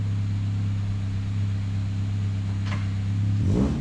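A race car engine idles with a steady, loud drone as the car is backed out, then revs sharply near the end.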